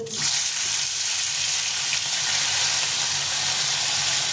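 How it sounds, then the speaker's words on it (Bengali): Rohu fish pieces frying in oil in a wok, a loud, dense and continuous sizzle holding steady throughout. "তো মাছগুলো ভেজে নেব"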